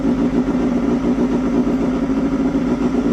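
A four-carburettor motorcycle with an MC14 engine idles steadily up close, a rich, even burble with a low throbbing pulse and no revving.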